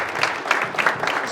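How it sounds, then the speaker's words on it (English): A round of applause at a session on emergency preparedness plans, a brief burst of crowd clapping at moderate volume. "can I get a round of applause for Suzanne"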